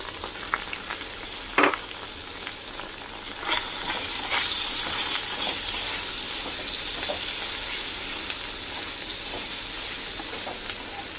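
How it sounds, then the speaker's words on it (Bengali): Chopped onions frying with ginger garlic paste over a medium flame, a continuous close sizzle that grows fuller after a few seconds, with scattered clicks and scrapes of stirring. "মিডিয়াম ফ্লেমে এগুলোকে ভাজবো"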